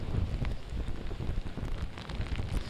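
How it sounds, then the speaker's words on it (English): Heavy rain and gusting wind during Hurricane Matthew at night, a dense, steady roar of downpour with low rumbling wind buffeting the microphone throughout, no voices. "Kim, the rain has been coming down nonstop since about 8 o'clock this evening"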